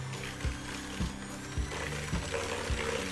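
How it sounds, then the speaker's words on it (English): An electric mixer works eggs into chocolate chip cookie dough with a steady whirring hum and a rhythmic knock about twice a second, fairly faint and heard alone. "now we use the mixer and incorporate it."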